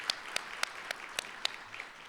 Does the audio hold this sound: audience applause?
yes